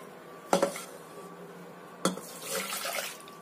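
Strained vinegar sauce poured back into a cooking pot: two short clanks of a container against the pot, then a soft splashing pour, quiet and close, with no voices.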